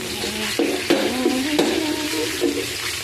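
Garlic and onion sauté together in a pan, giving a close, loud sizzle under a few sharp spoon scrapes and clinks against the metal, with no voices.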